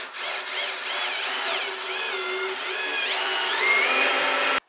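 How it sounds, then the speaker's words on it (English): A power drill bores a hole through a wooden beam of a wood and PVC skate box, giving a steady whining motor tone that wavers in pitch as the bit bites, continuous and close, with no talking. "I'm going to drill another hole into this guy"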